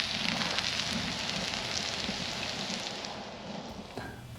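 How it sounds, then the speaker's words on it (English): New York strip steaks in a hot pan give off a dense, steady sizzling hiss, close and continuous, with no voices over it. "We are done searing the steaks."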